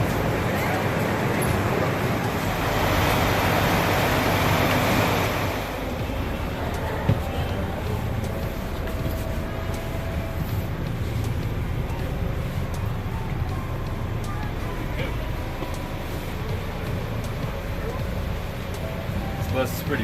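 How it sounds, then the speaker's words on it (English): Interior rumble of a double-decker bus travelling from Mazatlan to Puerto Vallarta, a steady loud road and engine drone filling the whole stretch, louder in the opening seconds, with people talking over it. "Now we're about to take a double-decker bus from Mazatlan to Puerto Vallarta."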